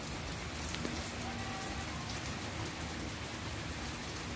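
Steady rain falls by the sea, a dense even hiss of drops on surfaces that stays moderately loud and unbroken throughout, with no voices.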